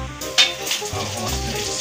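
Cimol tapioca dough balls frying in hot oil give a steady close sizzle for a short stretch, with a brief clink of a utensil near the start and no voices.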